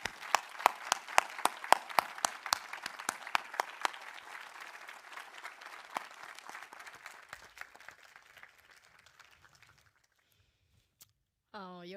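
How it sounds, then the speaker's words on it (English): Audience applause at the Ashden Awards 2021 ceremony at COP26 in Glasgow, dense crowd clapping that fades steadily over several seconds into near silence, followed by a brief sound at the very end. "compliment the winners with a big round of applause"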